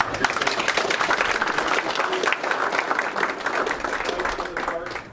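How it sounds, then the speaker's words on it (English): A full room at a Pints of the Park science talk hosted with Voyageurs National Park Association breaks into sustained, dense applause, steady and loud for five seconds before tapering at the very end. "We can give them a round of applause."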